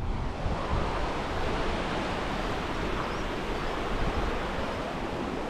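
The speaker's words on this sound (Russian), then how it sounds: "Бурная горная речечка." Turbulent mountain river Fiagdon in North Ossetia rushing steadily, a loud, continuous broadband roar of churning water with no pauses, close by and alone.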